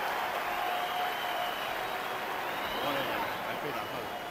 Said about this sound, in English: There's the cheer from those in the crowd who bet the over.